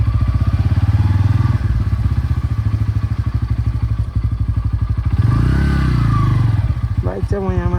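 A motorbike idles loudly and steadily nearby, its engine note rising briefly as it is maneuvered and parked at the top of a slope in a hillside village, with a few thuds and clatters toward the end.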